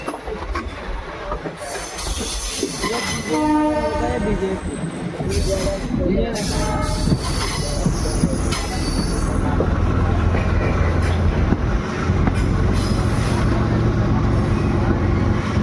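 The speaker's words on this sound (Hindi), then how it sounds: "ट्रेन बढ़ रही है फुलेरा जंक्शन के प्लेटफॉर्म नंबर 2 की तरफ।" The 14087 Runicha Express rolls loudly into Phulera Junction toward platform 2, its wheels squealing and clattering continuously on the rails, with a voice talking briefly over the running noise.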